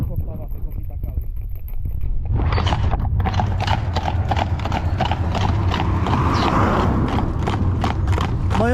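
Horses' hooves clip-clop on a road in rural Romania, a steady rapid run of hoof strikes starting after a couple of seconds and continuing loud and close, with a faint whinny and background noise.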